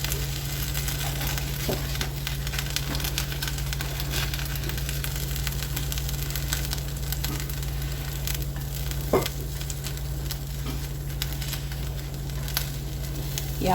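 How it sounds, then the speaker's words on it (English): Birria taco shells crisp in a hot pan, giving a steady, even sizzle over a constant low hum for over ten seconds, with occasional small pops and clicks and no talking. "we're gonna cook these until these shells get pretty nice and crispy."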